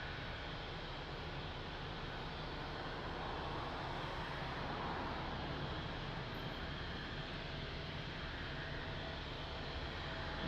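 A departing aircraft at Lisbon Airport produces a steady, broad jet roar that holds at a constant level throughout, a continuous distant rumble with no voices over it.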